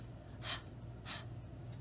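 A teacher imitates the letter H sound with two soft, breathy exhalations, like breathing onto a hand, spaced apart with quiet between them and no other talk.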